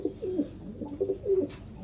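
Pigeons coo in a breeding loft, several soft throaty coos rising and falling in a steady run, close and fairly clear, with faint rustling behind.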